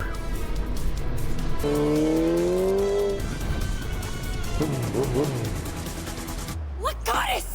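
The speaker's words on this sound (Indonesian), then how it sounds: "Guney kabur memakai motor dan Alin mengejarnya memakai mobil" Tires squeal loudly as a car chases a motorbike in a film scene, with long rising screeches over steady engine roar and busy background noise, followed by more skidding near the end.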